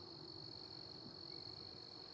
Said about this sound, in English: Oh, crickets. You hear crickets?